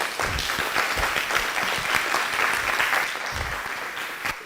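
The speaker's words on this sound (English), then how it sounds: "A round of applause" An audience at a gaming hackathon winner announcement applauds steadily for several seconds, a dense, even patter of many hands with no talk over it.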